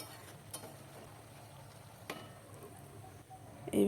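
Lemon chili chicken sizzles in oil in a pan, a faint continuous frying hiss with a few soft clicks of stirring, growing louder at the very end.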